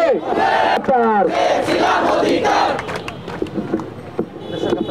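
Students protesting in front of the Raju sculpture chant a slogan together, a loud crowd of voices rising and falling in rhythmic shouts, close and continuous.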